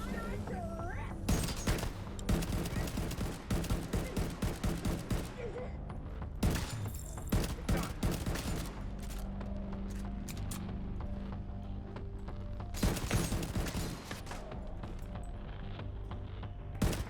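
Gunfire in the shooter The Division 2, rapid bursts of automatic shots in clustered volleys with pauses between, heavy and close, with a voice talking faintly underneath at times.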